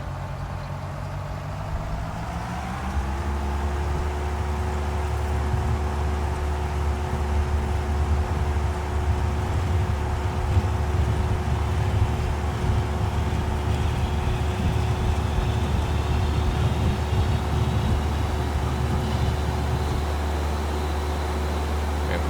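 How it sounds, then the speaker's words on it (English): Strong wind rushing over an aircraft at Stewart Airport in the X-Plane flight simulator, a steady loud roar with a low engine drone that rises after a few seconds and holds for the rest of the clip. "Very strong wind here at Stewart."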